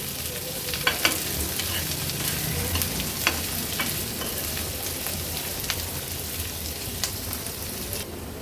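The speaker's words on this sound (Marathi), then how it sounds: "आता गॅसची फ्लेम मीडियमवर ठेवून हा कांदा छान मऊ होईपर्यंत आपल्याला शिजवून घ्यायचा आहे." Chopped onion with ginger, garlic and cashews sautéing in oil over a medium gas flame, a steady crackling sizzle punctuated by occasional sharp stirring clicks.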